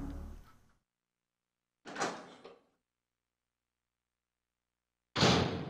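Door opening into the lounge in Resident Evil 3, heard as three separate close thuds and creaking bursts with silence between them, the last one loudest and sharpest.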